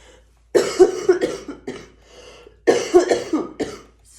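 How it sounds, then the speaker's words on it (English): A person coughs in two harsh, close bursts, each a rapid run of several hacking coughs separated by a brief pause. "So sorry about the coughing."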